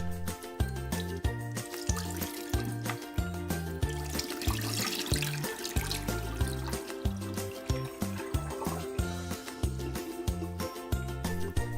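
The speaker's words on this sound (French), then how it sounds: "Et on déverse l'eau." Cold water used to rinse bok choy is poured out into a kitchen sink, a soft splashing rush rising over quiet background music for a few seconds, then trickling away.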